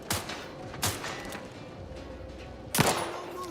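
Three sharp gunshots from a shooting-range session in the video game Outer Worlds 2, one near the start, one just under a second in and a louder one near the end, each a loud crack over quiet game ambience.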